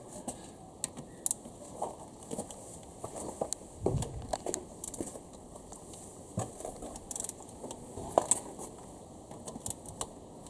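Ratchet clicking as 10mm bolts are undone on a Honda B18 engine during cylinder head removal on a Civic EF, with scattered sharp mechanical clicks and taps at close range, no talking.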